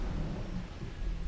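In the video game Starfield, thunder from lightning rolls as a low, quiet, continuous rumble with a faint hiss, distant and brief with no talking.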